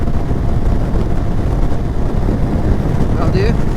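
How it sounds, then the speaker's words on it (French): A 2023 Zontes 350 D scooter accelerating on the road: a dense engine drone mixed with heavy wind rush buffeting the microphone, loud and steady throughout. "Je vais essayer d'accélérer un peu et on va regarder si je ressens des vibrations au niveau du guidon."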